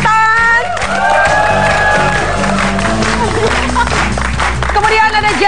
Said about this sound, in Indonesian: Chef Harada, kita beri tepuk tangan